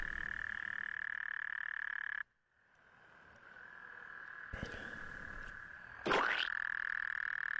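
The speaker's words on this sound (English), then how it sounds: "Thank you for those toad sounds." Toads croaking in a steady, loud trilling chorus that cuts out abruptly, slowly swells back, and is broken by a couple of sharp knocks and a rising squeak near the end.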